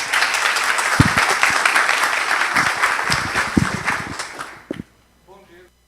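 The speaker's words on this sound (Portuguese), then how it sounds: "Uma salva de palmas." Audience applause at a Laravel tech talk in Brazil, a dense broadband wash of many hands lasting several seconds under a little murmur, then tapering off quickly near the end.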